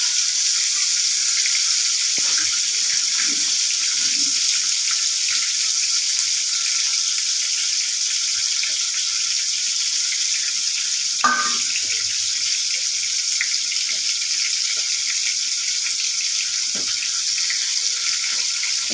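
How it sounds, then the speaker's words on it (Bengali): Fish frying in oil in a pan over a low flame for a fish oil curry gives a steady, soft sizzling hiss throughout, broken by one brief clink near the middle. "মাছগুলো দেওয়া হয়ে গেল, এবার ভাজা হোক মাছগুলো"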